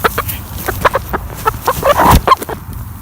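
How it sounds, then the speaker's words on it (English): Hens cluck in short, irregular bursts close by, with a few louder squawks mixed in against light outdoor background noise. "Like, I have 27 hens."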